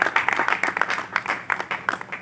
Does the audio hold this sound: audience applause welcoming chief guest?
yes